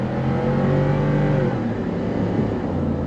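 A Ford USSV Hamba's naturally aspirated V8 revs hard under throttle with a deep, steady engine roar, close and loud, settling into a slightly lower, rougher drone midway with no talking.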